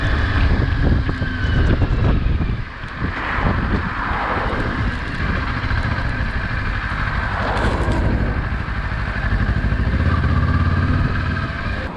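A Kawasaki KLE 500 adventure motorcycle riding along, its engine drone steady and fairly loud throughout, mixed with heavy wind rush buffeting the microphone and no talking.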